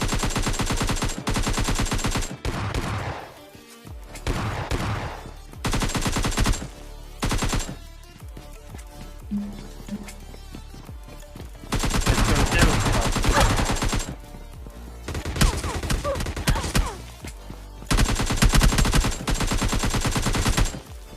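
Gunfire in a battle royale video game: loud bursts of rapid automatic and single shots come in separate clusters with short pauses between them, close and dominant throughout.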